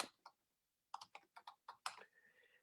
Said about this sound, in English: type in the name of the company